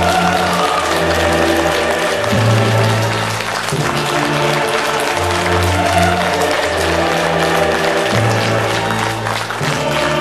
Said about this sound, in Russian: давайте проводим его дружными аплодисментами